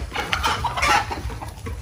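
Chickens on a farm in Glan, Sarangani Province, clucking in a busy overlapping chorus, moderately close, with a low background rumble and no talk.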